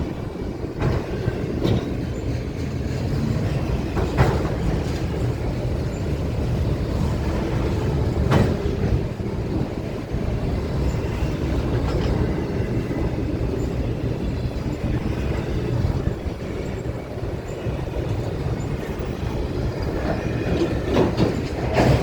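A CSX freight train, apparently running empty, rumbles steadily past at close range and begins slowing to stop, with continuous low wheel and car noise and faint clickety-clack, a few brief sharper squeals cutting through.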